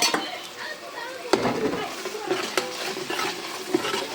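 Masala spices go into a pan for stuffed bitter gourd curry and are stirred with a utensil, making a steady scraping, gentle sizzle and occasional clanks, with voices faintly in the background.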